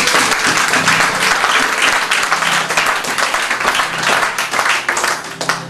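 A church congregation claps and cheers in sustained, dense applause that stays loud and steady throughout, with a few voices mixed in.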